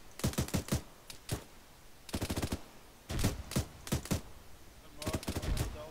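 Rapid gunfire on a bunker in the video game ArmA 3, bursts of quick automatic shots in clustered strings with short pauses between them, fairly distant and moderately loud, steady across the stretch.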